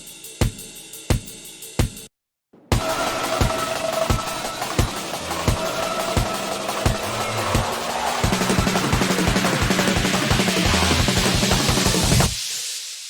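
A punchy processed kick drum thumps alone at first, then a dense neuro drum-and-bass loop joins, building into a loud, steady pulsing groove before stopping abruptly.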